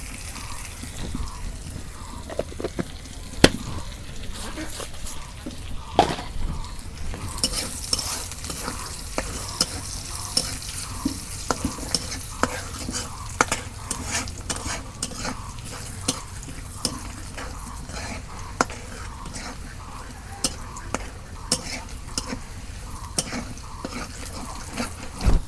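Cumin seeds and fish fry in oil over a village clay stove, a continuous sizzle under frequent rhythmic scraping and clinking of a stirring utensil against the pot, close by and without talk.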